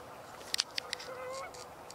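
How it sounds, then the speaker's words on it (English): Canada geese call faintly in the distance outdoors, a few soft honks drifting among scattered clicks and low background hiss. "are Canada geese, which are vocalizing"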